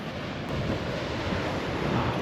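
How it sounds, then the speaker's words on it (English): Choppy sea waves wash and churn steadily in Whitby harbour, a broad continuous surf roar with wind buffeting the microphone, close and fairly loud with no voices. "Ah, look at these waves."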